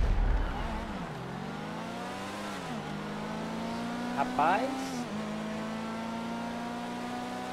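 Two GTA V race cars, a Pfister 811 and a Grotti X80 Proto, rev and accelerate with rising engine whine and gear-shift dips, close and loud, with a player briefly speaking.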